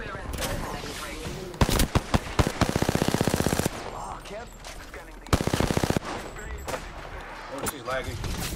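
Automatic weapons fire in the battle royale shooter Apex Legends: rapid bursts of loud, close gunshots in several strings, with a player talking between them.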